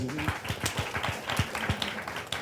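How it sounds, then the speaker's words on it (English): Scattered, modest clapping from a small gathering applauding Big Bo, uneven claps close by over about two seconds with faint murmuring in the background. "So give him a round of applause."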